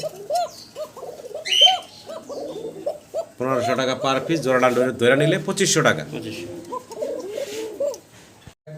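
Pigeons coo softly in short rolling calls, among them a female Bashiraj pigeon, while someone talks loudly over most of them.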